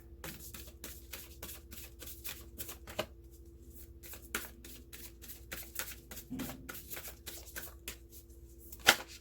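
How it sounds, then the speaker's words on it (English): Oracle cards from the Whispers of Love deck being shuffled and drawn, a steady run of soft papery riffles and flicks with a sharper snap near the end, close and quiet with no talking. "I'm going to pull a card from the top and one from the bottom."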